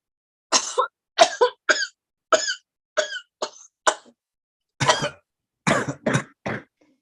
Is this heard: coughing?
yes